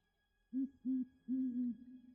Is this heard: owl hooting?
yes